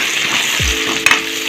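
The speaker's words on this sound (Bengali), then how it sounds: "মশলাগুলো দেওয়ার পরে আমি আরও কিছুক্ষণ আলুটাকে ভাজা ভাজা করে নেব।" Potato pieces with spices fry in a pan, giving a loud, close, continuous sizzle with a quick scrape of stirring partway through and no voices.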